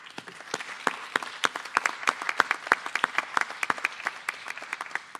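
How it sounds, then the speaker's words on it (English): Audience applause at a chamber of commerce legislative wrap-up event in Talbot, a loose, uneven patter of individual claps that builds to steady clapping and holds for several seconds at moderate volume. "that's worth a round of applause"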